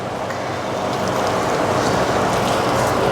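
Water sprayed over garden plants like falling raindrops makes a steady, close patter and hiss that swells slightly and stays continuous throughout.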